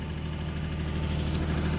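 A 1994 Mercury Cougar with a blown head gasket idles close by, a steady low rumbling drone with a faint uneven pulse throughout.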